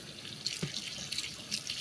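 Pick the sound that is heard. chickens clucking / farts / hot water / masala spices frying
hot water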